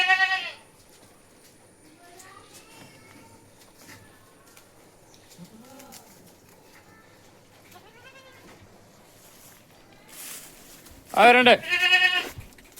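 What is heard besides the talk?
Malabari goats bleating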